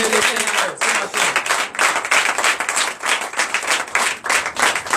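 A church congregation claps and cheers in praise at a Sunday service in Benin, steady loud applause filling the room in rolling waves, with voices mixed into the crowd noise.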